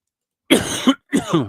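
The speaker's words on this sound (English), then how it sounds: "I got this cough" Two harsh coughs in quick succession, close and loud, with a brief pause between them.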